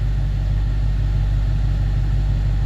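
A 2018 Dodge Challenger idles steadily during a pre-purchase inspection, giving a loud, continuous low rumble with an even, unchanging tone and no talk.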